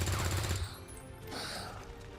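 Gunfire in a video game aimed at a sectoid alien: a loud burst of shots at the start that fades into a lingering, noisy tail.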